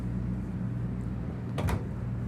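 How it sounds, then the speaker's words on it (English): A soft muffled bump near the end, a soft-close drawer in a 2024 Renegade Verona 40VRB motorhome sliding shut and damping quietly, against a steady low room hum. "And then your 4 soft closing drawers."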